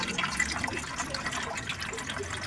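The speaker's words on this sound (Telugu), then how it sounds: "కట్టిన తర్వాత ఈ విధంగా వాటర్ పోసుకోవాలి" Water splashes and gurgles as it is poured into a pot for steaming sorghum pittu, a continuous bubbling pour lasting the full few seconds with no talking.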